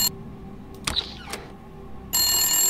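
A telephone bell rings in a late-night drama scene: a short burst at the start, then a long loud ring that continues to the end, with quieter clicks and movement between rings.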